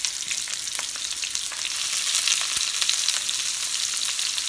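Chopped onions, two slightly larger than medium, sizzle steadily in hot oil in a pan, a dense, even crackle with faint pops throughout and no voices.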